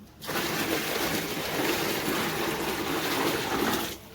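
Water pours from a bucket into a fish tank as a steady, continuous splashing gush, close and fairly loud, starting and stopping abruptly, with no talk over it.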